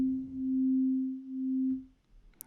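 A single pure sine tone from the Operator synthesizer in Ableton holds steady for about two seconds, swelling and dipping slightly in level before stopping cleanly, followed by near silence.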